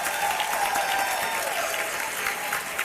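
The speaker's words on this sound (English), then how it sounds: "Give yourselves a big round of applause." An audience at a women's health expo live broadcast bursts into sustained, dense applause, many hands clapping together in a continuous, fairly loud roar.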